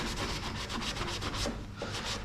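Abrasive pad scuffing back and forth across a weld on the steel body of an HZ Premier car, a rhythmic raspy rubbing in quick repeated strokes, close and fairly quiet.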